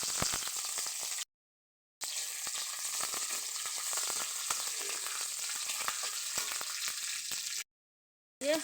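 Curry ingredients fry in a pan, the sizzle steady and loud throughout, broken by two short silent gaps.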